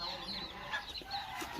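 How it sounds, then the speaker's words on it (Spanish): Chickens cluck softly in short, scattered bursts while drinking water, with faint farmyard background noise throughout. "ahí hay un gallo o una gallina yendo por ahí y pensando"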